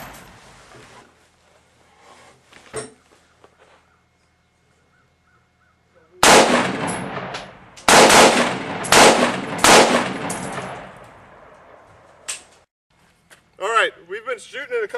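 Several loud 5.56 rifle shots strike a body armor hard plate outdoors, arriving as sharp, heavy bursts in a cluster after a quiet stretch, with speech present in the clip.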